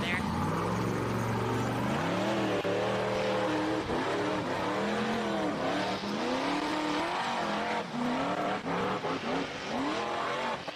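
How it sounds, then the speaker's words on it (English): A bouncer-class off-road race car engine revs hard, swinging up and down in pitch with fluttering throttle changes, loud and close beneath a commentator's talk. "He's famous for that throttle control, that Franklin flutter, and he is out the top."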